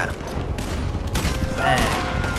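Gunfire in the video game Red Dead Redemption 2: several loud, sharp shots crack over busy in-game ambience and rumble.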